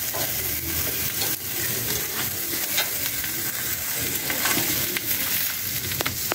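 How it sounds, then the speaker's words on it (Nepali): Steady, dense sizzling and crackling of meat roasting over a fire, continuous throughout with occasional sharper pops. "मासु ट्याक्क पोल्दै हो अहिले चाहिँ है।"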